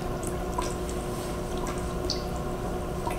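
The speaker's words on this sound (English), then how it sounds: "water is going to flow from the pump into the recharge area and start to fill the front of your model" Steady low trickling and splashing of water from a pump into a groundwater model's recharge area, faint and continuous, with occasional small drips.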